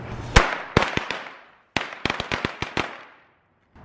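Fireworks set off by hand, a first loud pop followed by a couple more, then a quick rapid string of sharp cracks and bangs, close and loud with brief gaps of quiet between bursts.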